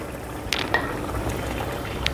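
A gas stove knob gives a couple of short, crisp clicks as the flame is lowered under a pan of boiling chicken kheema gravy. The clicks are close and isolated over a low, steady kitchen background.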